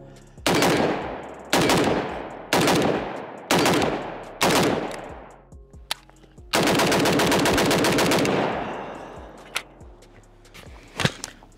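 Loud, close bursts of gunfire from a Riley Defense Krink rifle: five rapid volleys in a steady rhythm, then one long sustained string of fire, followed by a few scattered single shots.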